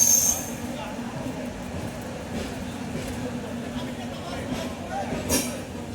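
An Indian Rajdhani passenger train moves through a station with a steady rolling rumble of wheels on rails. A brief high squeal comes at the start, with faint background voices.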